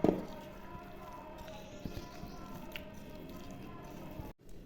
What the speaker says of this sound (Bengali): পুরো মশলাগুলো দিয়ে দেবো, ভালো করে মাখিয়ে নেব।